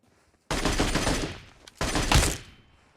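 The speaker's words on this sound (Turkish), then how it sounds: "Arkadaşlar botu öylesine vurdum" Two long bursts of automatic gunfire from PUBG Mobile, loud and close, the first lasting over a second, a brief pause, then a second burst, shooting at a bot.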